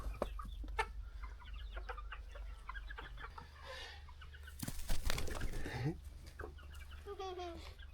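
Hens and roosters clucking and squawking around a village farmyard, with a burst of wing flapping midway and soft background noise throughout.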